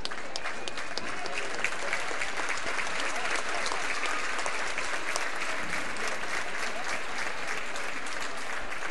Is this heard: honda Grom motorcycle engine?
no